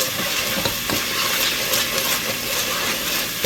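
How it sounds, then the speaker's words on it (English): Beef stroganoff sizzles loudly in a pan while being stirred, a dense continuous hiss and crackle with scraping spoon strokes, close and without speech. "Stir it real good."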